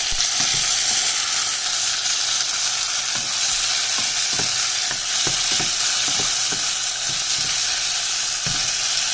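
Chopped medium tomato dropped into onions frying in a pan for a Nepali fish curry, producing a loud, steady close sizzle with scattered stirring clicks and scrapes throughout.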